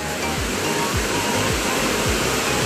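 A small waterfall pours into a lake during the rainy season, a dense continuous rushing roar of falling water, loud and close, with no voices.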